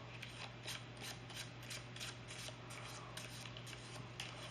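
A deck of playing cards is shuffled by hand for a self-working card trick, giving a faint run of quick riffling flutters and rustles, close and without talk.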